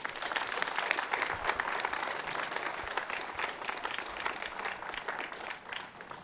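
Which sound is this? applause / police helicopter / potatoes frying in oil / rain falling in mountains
applause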